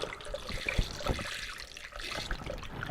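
Water runs into a container while ginger cider is being made at home, a steady faucet-like pour and trickle heard up close with no talking.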